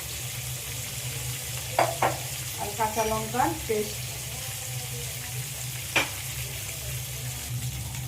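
Pieces of katla fish fry in hot oil in a pan, a steady close sizzle running throughout while someone speaks briefly over it, with a couple of faint utensil clinks.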